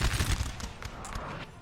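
Artillery and gunfire in a Warhammer-style battle video game, a busy string of booms and rapid shots with a heavy low rumble at first, then thinning, fairly quiet and continuous.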